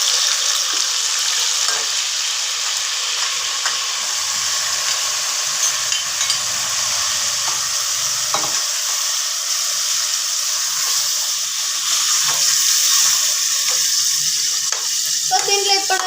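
Marinated chicken sizzles and fries steadily in a pan over onions, a continuous close crackling hiss with occasional stirring scrapes, with a brief faint voice near the end.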